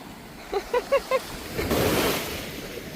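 A sea wave washes onto a beach at Funtana, Croatia, swelling into a brief rushing surge after a few short tonal chirps, then easing back under the wind.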